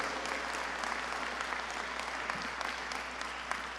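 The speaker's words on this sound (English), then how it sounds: "Give this young man a round of applause for his incredible work." Steady, even applause from an audience at a legislative event on policing reform fills the whole stretch, soft and distant, with no voices standing out.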